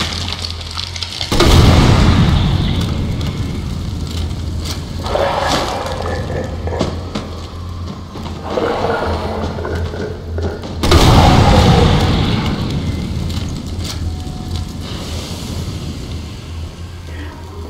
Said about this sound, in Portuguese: Último tiro de granada de fogo.